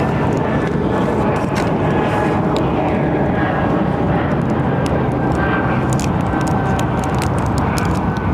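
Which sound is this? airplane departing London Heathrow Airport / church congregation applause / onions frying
airplane departing London Heathrow Airport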